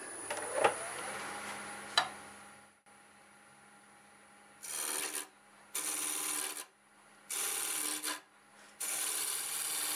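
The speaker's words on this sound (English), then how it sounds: "We'll go back to the roughing gouge." Roughing gouge cutting a small wooden inside-out ornament blank on a lathe, heard as rough scraping bursts in four separate passes, each lasting under a second, with a steady motor hum and a few knocks beforehand.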